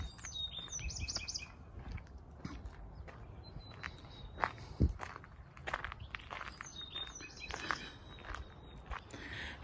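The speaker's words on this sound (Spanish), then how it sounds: "nomás los puros pajaritos se escuchan cantar" Small birds sing and chirp in a forest, several short high tweets and trills scattered through the scene, moderately near, with soft footsteps crunching along a path underneath.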